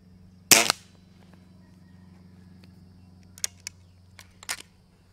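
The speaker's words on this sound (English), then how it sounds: "The 97's shot cycle sounds buzzier than it feels." A Weihrauch HW 97K .177 spring air rifle fires once with a sharp, loud crack, followed by a few faint clicks and a light metallic rattle in quiet surroundings.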